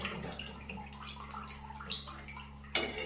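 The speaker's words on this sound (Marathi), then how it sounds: "पाणी ओतत आहे थोडेसे." Water from a glass is poured into a cooking pot of spicy chicken rassa. A faint, quiet splashing trickle runs over a low steady hum, ending in a brief louder splash, with no voices.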